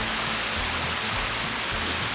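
A mountain waterfall swollen after about 100 mm of heavy rain, a dense, unbroken roar of falling water filling the air at close range, steady and loud throughout.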